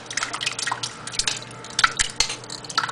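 Canned black beans tip into a pot of tortilla soup with wet, squishy plops and drips, plus a few sharper clinks of can or utensil against the pot, in irregular close bursts with no talk.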